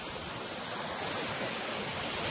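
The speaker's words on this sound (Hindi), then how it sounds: "जब समुद्र की जो लहरें हैं ना एकदम टकराती हैं ना, अलग ही आवाज़ आती है" Sea waves wash against a Goa beach in the evening, a steady broad hiss of surf, moderately loud and continuous, with no voices.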